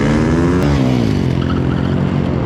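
Supermoto motorcycles race on a track, engines roaring loud and continuous at close range with rising and falling revs, several bikes overlapping.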